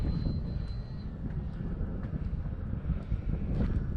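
A small propeller airplane flies on a windy day, its engine a steady, moderately distant drone mixed with rushing wind noise against the microphone.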